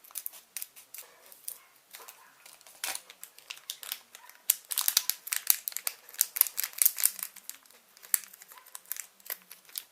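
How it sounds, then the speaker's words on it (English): Scissors snip and slice through a crinkly plastic packet, close up, with rapid irregular cuts and rustling crackles that grow busier and louder midway. "pair of scissors to get this out of the packet"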